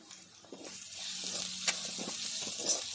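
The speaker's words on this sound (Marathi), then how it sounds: "पुन्हा दोन मिनटं असं परतून घेऊया" Spiced pea and potato filling with red chilli powder, turmeric, garam masala and chaat masala sautéing in a pan for veg patties, a soft steady sizzle with a few scraping stirs of a spoon.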